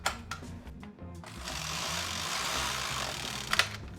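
A knitting machine carriage is pushed across the needle bed to knit a row of a sweater, making a steady mechanical whir with clicks at the start and a small rattle near the end.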